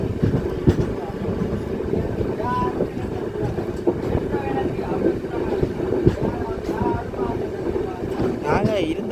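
A train rolls along the rails while curving, with a rumbling, rattling run of rhythmic wheel clacks and metallic squeals close by, over steady wind noise and some voices.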